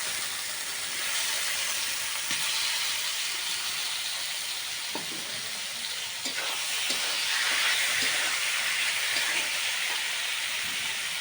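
Marinated chicken frying in spiced oil in a rice cooker, a steady loud sizzle and hiss running throughout, with soft scrapes of stirring rising near the middle and no talk.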